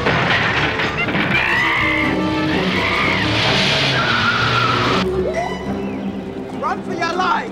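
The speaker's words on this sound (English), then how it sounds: "There's a vehicle." A vehicle skids and drives up in a film, long tire screeches and a revving engine under shouting voices, loud and close.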